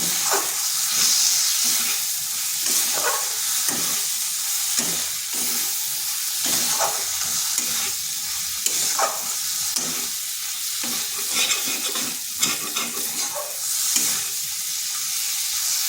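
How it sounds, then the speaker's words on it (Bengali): Spices being stirred and fried in a pan for a pumpkin and red lentil dish, a steady bright sizzle with repeated scraping stirs throughout, close and continuous, no talking. "এরপর সমস্ত মশলা খুব ভালো করে মিশিয়ে নিচ্ছি"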